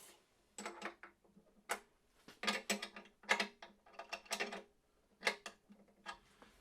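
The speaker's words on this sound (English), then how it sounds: "Tightening the nuts here on the tuners." A wrench tightens the nuts on Taylor guitar tuners in a series of quiet, close, irregular ratcheting clicks and metallic ticks, no talking.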